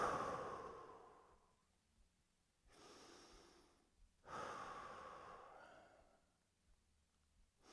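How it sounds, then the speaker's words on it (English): Slow, deep belly breaths drawn during a lying-down relaxation in a Shotokan karate class, three long audible inhales and exhales with quiet gaps between, close and soft, no talking. "Start breathing deeply into your belly."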